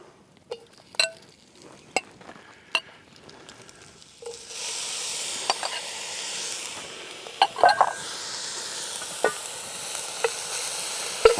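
Sausage meat and lardons dropped into a cauldron over embers, with a few sharp clinks at first, then a steady broad sizzle that sets in and carries on beneath occasional utensil knocks.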